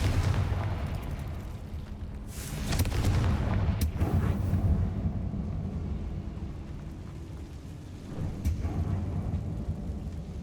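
A Confringo fire spell blasts in the Hogwarts Legacy video game, a booming explosive burst that rumbles loudly near the start and fades into a low, sustained roar with a second smaller crack later.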